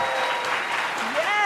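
Audience at a live comedy podcast taping applauds a newly married couple with steady, dense clapping that fills the short moment, while voices talk over it.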